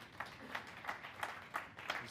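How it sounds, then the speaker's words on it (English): A small burst of audience applause at an entrepreneurship conference: quick, evenly spaced claps, fairly quiet and distant, lasting about two seconds. "Once again, applause to Carl Richards."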